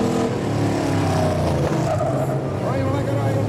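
Autocross race cars running laps on a dirt track, a steady roar of engines passing with some tyre skid, continuous and fairly close over background noise.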